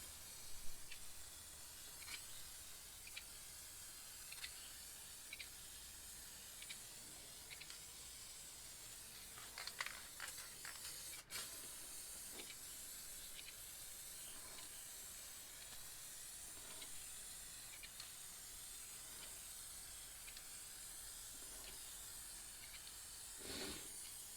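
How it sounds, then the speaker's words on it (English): A steady, bright hiss of an aerosol clear coat can spraying side to side over a painting, with brief pauses and small bursts, fairly close and fairly quiet. "get a clear coat and spray from side to side as I go up the painting"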